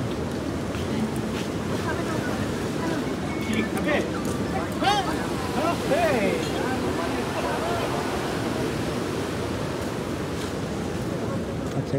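Ocean waves at the Mandermani beach resort make a continuous broadband wash mixed with wind buffeting the microphone, while voices speak faintly over the surf.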